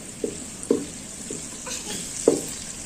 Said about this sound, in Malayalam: ഇതിലേക്ക് ആദ്യം വറ്റൽമുളക്, കറിവേപ്പില രണ്ടും കൂടെ ആദ്യം വറുത്തെടുത്ത് കോരി വെക്കണം.